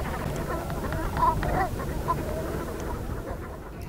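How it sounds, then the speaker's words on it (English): Flocks of migrating ducks and geese on the North Norfolk salt marshes give faint, distant honks and quacks over a steady outdoor background. "This is a place where migrating flocks of birds come to gorge themselves on the salt marshes"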